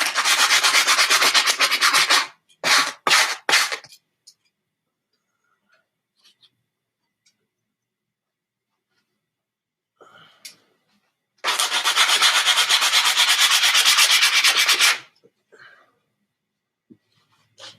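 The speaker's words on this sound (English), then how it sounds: "Give it a light sanding on the surface here where I cut it." Light hand sanding across the freshly cut surface of a homemade bootleg BB gun, a few seconds of close, steady rubbing strokes, brief scrapes, a long pause, then another sustained stretch of sanding.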